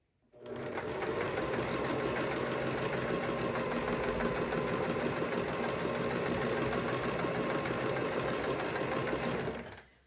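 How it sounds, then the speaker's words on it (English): A sewing machine runs continuously, stitching a straight seam in fabric with a dense, even mechanical whir that starts after a brief pause, holds steady for about nine seconds and then stops. "Now on this line, I'm going to continue sewing to the end and we're going to back stitch when we get to the edge of the fabric."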